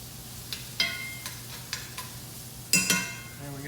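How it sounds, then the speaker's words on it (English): Peppers are stirred on a hot grill, with light metallic scrapes and clicks from a utensil at irregular intervals over a steady low sizzle, ending in a louder clatter. "Let me stir these peppers just a tiny little bit."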